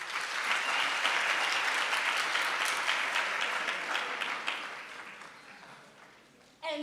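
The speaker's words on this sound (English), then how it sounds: "Let's clap hands for scientists." Sustained applause from a university audience on World Food Day, a thick wash of claps that holds steady for several seconds before slowly fading, then a brief burst at the end.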